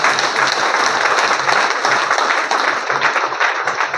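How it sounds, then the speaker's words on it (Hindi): A crowd at a DXN network marketing meeting bursts into loud, dense applause that holds steady for several seconds, many hands clapping close together with no pause. "एक जोरदार तालियां हो जाए 3 प्रोडक्ट के लिए"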